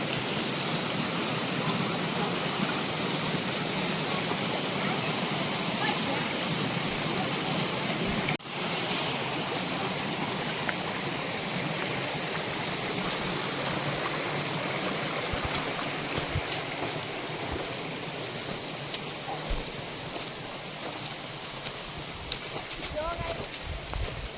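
A stream flows steadily at a forest watering spot for wild animals in Gir, near the Sarkhadiya Hanumanji temple, making a dense, continuous rushing wash, loud and close, with a brief dip partway through and scattered faint clicks.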